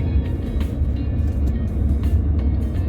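An auto-rickshaw trying to overtake on a road near a school and transport office, heard within a loud, steady engine and road rumble from a vehicle in motion, with faint higher rattles over the drone.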